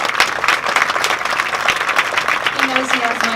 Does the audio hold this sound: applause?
yes